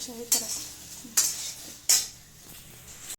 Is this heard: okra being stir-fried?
yes